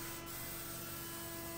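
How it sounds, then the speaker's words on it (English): Spray gun applying finish to a walnut shuffleboard in a workshop, a steady faint hiss running unbroken under a constant mechanical hum. "it's just beautiful when you start spraying that walnut"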